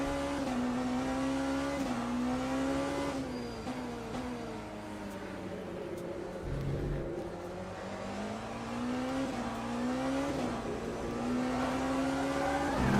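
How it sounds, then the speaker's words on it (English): Race cars in the Le Mans Ultimate racing simulation roar past one after another, engines rising and falling in pitch as each passes near the low section of the track, loud and continuous with no talk. "I do like the way you can hear the cars going past when you're at that low bit of the track there"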